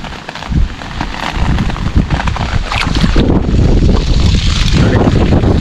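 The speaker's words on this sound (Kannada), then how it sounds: "ಇಲ್ಲಿ ಸಿಕ್ಕಾಪಟ್ಟೆ ಗಾಳಿ ಆಗಿಬಿಟ್ಟಿದೆ" Strong wind sweeps across an outdoor coffee plantation during heavy rain, buffeting loudly and continuously, with gusts rising and roaring throughout.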